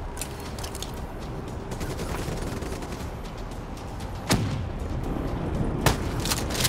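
Steady gunfire from the Black Ops 3 campaign, with rapid automatic bursts rolling on continuously and two louder sharp shots standing out near the end, all without talk.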